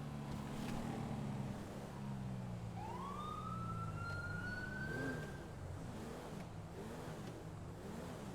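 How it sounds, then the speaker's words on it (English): A distant police motorcycle siren wails and sweeps upward as the motor units pass during a memorial procession, over a steady low engine rumble. "the sirens that you hear are going to be the motor units as they're passing us"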